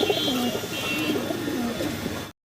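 Fancy pigeons coo softly and repeatedly in low, rolling calls over a steady background hiss, fairly close.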